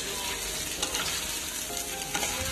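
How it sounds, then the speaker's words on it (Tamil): Chicken feet fry in a pan with a dense, continuous sizzle, and a few scraping stirs of a spatula cut through it. "நல்லா கிளறி விடுங்க."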